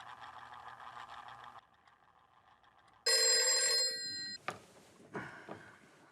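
A telephone rings with a bright electronic trill in a quiet house, one burst of ringing followed by softer clicks and rustles, set against a low steady background hum.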